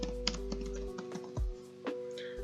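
Quick bursts of computer keyboard keystrokes at close range, irregular taps and short clusters as a name is typed in, with a short gap partway through.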